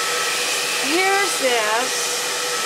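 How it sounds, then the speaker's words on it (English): A hair dryer or heat gun runs steadily as a loud, continuous broadband whoosh throughout, while someone speaks briefly over it. "blow dryer or the heat gun, she comes running"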